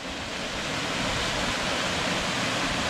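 Waterfall near Haweswater in the Lake District, a constant broadband rush of falling water, loud and close, steady throughout with no voices.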